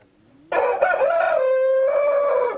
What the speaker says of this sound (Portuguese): O canto é imponente como qualquer outro galo